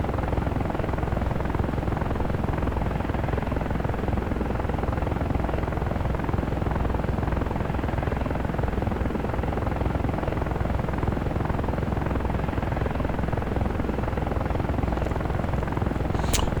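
Helicopter in the DCS World flight simulator, a constant, loud rotor and engine drone with a steady throbbing texture that never lets up, followed by a sharp click near the end.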